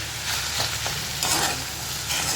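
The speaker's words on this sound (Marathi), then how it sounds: "कांद्याला व्यवस्थित ब्राऊन कलर येईपर्यंत आपण भाजायचं" Onion, garlic and ginger fry for a mutton curry, a close hissing sizzle broken by bursts of scraping as a spatula stirs the pan, and no one speaks.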